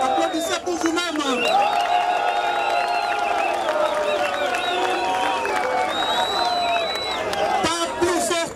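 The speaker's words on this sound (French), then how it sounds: "applaudissez pour vous-même" A large political rally crowd applauds and cheers itself, a continuous roar of clapping and voices under loud amplified music with sustained tones, shouts and babble throughout.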